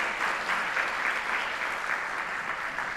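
An audience at a Technical University of Mombasa conference and innovation week applauds student innovators, a dense, steady wash of clapping from a large crowd that holds at an even level throughout.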